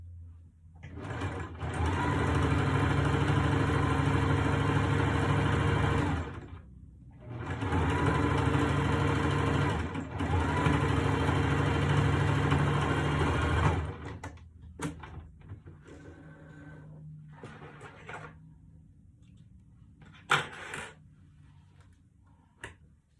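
A sewing machine stitches a large fabric pouch in two long, loud, steady runs separated by a short pause, followed by quieter fabric handling, light clicks and a sharp knock near the end.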